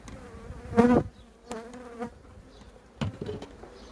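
Honey bees buzz loudly around a hive box during handling, the droning hum swelling in close bursts and fading between them, with no talking.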